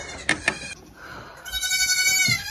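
Newborn goats bleat in high, wavering cries nearby on a farm, with a couple of short sharp sounds before the longer bleat.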